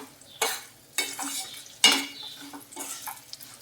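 Tamarind rice (pulihora) with grated jaggery being stirred in a pan, giving several separate scraping, clinking strokes of a spoon against metal over a faint sizzle, close up with no talking.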